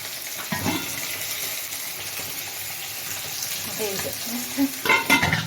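Fish frying in a pan makes a continuous crackling sizzle, with a few scraping and clattering utensil sounds near the end and no speech.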